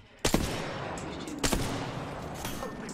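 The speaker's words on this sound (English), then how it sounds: "Shots fired, and they're hitting me" Gunfire in a video game: two sharp, loud shots about a second apart, each followed by a rumbling tail and a fainter third report, with no talk.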